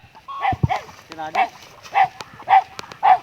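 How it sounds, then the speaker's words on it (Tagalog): A dog barks repeatedly at a fairly even pace, about half a dozen short yelps and barks nearby, with a brief whine between them. "May aso."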